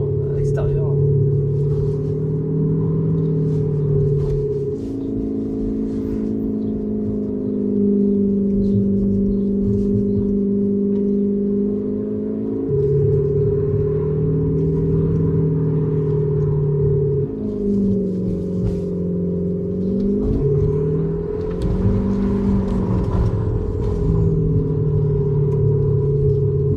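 Tesla fitted with an Active Sound Exhaust gives off a continuous synthetic engine hum that steps up and down in pitch for nearly half a minute, with some talk mixed in.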